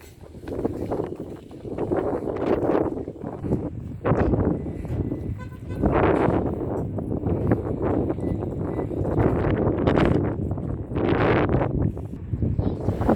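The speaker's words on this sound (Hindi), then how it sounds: "ये इतनी तेज़ हवा की आवाज़ है, ये देखें आप।" Strong wind buffets the microphone in loud, rumbling gusts that rise and fall continuously for the whole stretch, with no clear voices.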